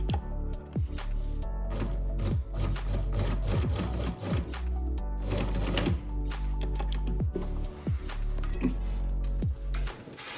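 A sewing machine fitted with a zipper foot stitches a zipper onto pants, running in steady bursts of rapid mechanical clatter with brief pauses, close and fairly loud, no talk.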